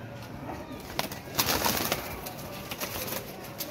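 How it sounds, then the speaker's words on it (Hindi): Teddy pigeons coo softly and repeatedly over a steady background hum, with a brief flutter partway through. "अंदर जाने से ना बुरा मना रहे हैं कबूतर"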